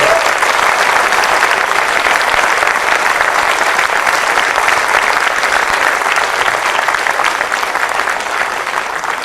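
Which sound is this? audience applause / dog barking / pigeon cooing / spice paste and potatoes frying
audience applause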